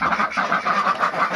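Several ducks quack in a quick, overlapping run of nasal calls, close and moderately loud, with no voices present.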